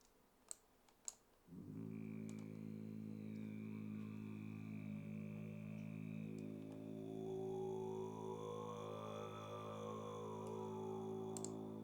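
A few sharp clicks, then a sustained synth drone swells in with layered, voice-like tones slowly shifting in pitch, steady and fairly soft.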